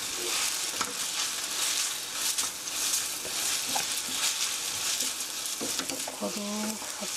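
Spaghetti aglio e olio being stirred in a pan after a ladle of pasta water goes in, giving a steady sizzle and frying hiss with soft scraping stir strokes and a few clinks near the end.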